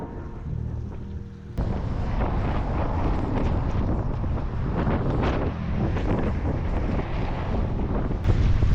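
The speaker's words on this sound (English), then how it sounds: "Quite windy, quite snowy." Strong wind roars and buffets the microphone continuously, a loud broadband rush with gusty surges throughout, in snowy weather.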